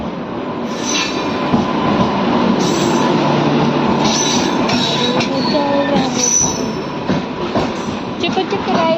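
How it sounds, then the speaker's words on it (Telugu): Train pulling into Vishnupuram station, loud and close with a continuous rumble, squealing wheels and clattering cars, with some voices in the background. "ట్రైన్ వచ్చేసింది"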